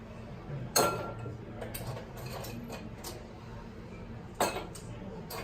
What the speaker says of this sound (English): So then we take a glass. We put a few ice cubes in there.